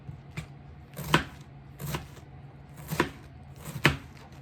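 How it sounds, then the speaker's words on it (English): Cabbage being cut with a big kitchen knife for sauerkraut: four separate crisp chops land about a second apart on a board, close and clear, with no talking. "I like cutting across it, and you end up with kind of long, thin pieces."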